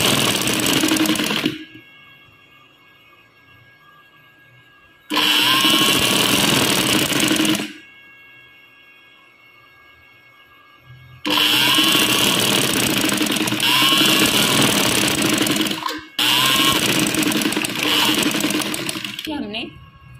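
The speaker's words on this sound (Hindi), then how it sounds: "अब हम ये जो है ना सिंगल सिलाई से ये लेस लगा रहे हैं।" An electric sewing machine stitches lace onto fabric for a kameez hem in four loud, fast-whirring runs of a few seconds each, separated by quiet pauses, with someone speaking.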